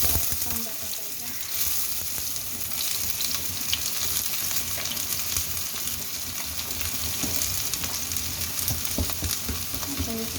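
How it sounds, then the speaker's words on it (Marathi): Onion sizzling in a very hot kadhai (wok) after cumin and mustard seeds have crackled, a steady loud frying hiss with stirring scrapes, for a Marathi-style dish of stale bhakri pieces. "लगेच जिरे मोहरी तडतडले कांदा टाकायचा."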